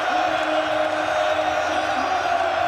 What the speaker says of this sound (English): The biggest cheer on the podium for the Norwegian